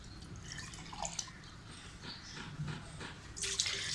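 Water from two glasses poured into a cooking pot while making matar keema, minced meat with peas; faint trickling and splashing with a few brief drips, close by and quiet.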